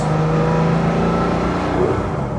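A 1995 Porsche 911 (993) Carrera RS 3.8 Clubsport's engine drones steadily up close, a rough, throaty hum that holds fairly even as the car drives through the gears along a farm road.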